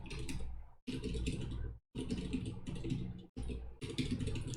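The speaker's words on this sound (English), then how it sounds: "That probably wasn't worth doing a lot of typing." Computer keyboard typing during a Go game-development coding session comes in four dense bursts of clattering keystrokes separated by brief silent pauses, close and fairly loud.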